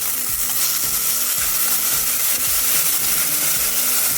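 Ginger frying in a very hot pan until it scorches gives a loud, constant crackling sizzle, close up and unbroken for several seconds.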